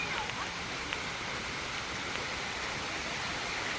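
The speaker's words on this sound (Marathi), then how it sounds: "इथे पण एक हा धबधबा आहे" Steady, rushing splash of a small waterfall in a residential colony during monsoon rain, a continuous wash of falling water heard from a short distance.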